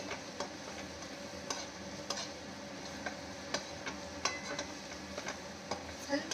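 Paneer capsicum fry being stirred in a pan, a steady bed of frying sizzle broken by sharp, irregular clicks and scrapes of the spoon against the pan, close and moderately loud with no talking.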